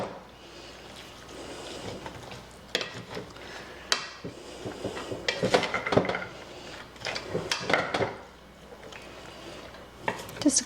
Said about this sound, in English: I'm just going to stir it around just a little bit